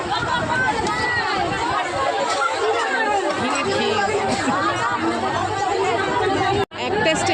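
Dense crowd chatter packed inside a crowded commuter train, a continuous babble of many voices close around, broken by a brief dropout near the end.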